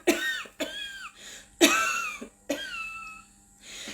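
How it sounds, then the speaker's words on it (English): Four harsh, close coughs, evenly spaced and fairly loud, each one trailing off in a raspy, wheezy tail. "and then the cough"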